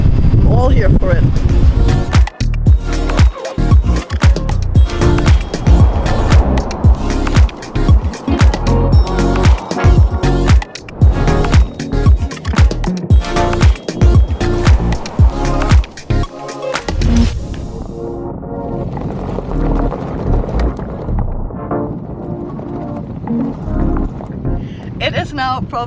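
Car driving on a very bumpy road, loud rattling jolts and thumps in rapid irregular bursts for most of the stretch, then easing into a smoother, quieter rumble near the end.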